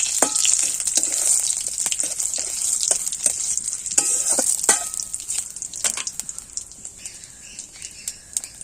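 Bay leaf and dried red chili fry in hot oil with a bright, steady crackling sizzle and occasional spatula stirs, and faint bird chirps sound in the background.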